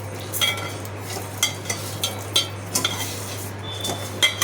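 Payesh, a Bengali rice pudding, cooking in a pot as a spoon stirs and scrapes, giving irregular metallic clinks and taps over a steady low hum, with no talking.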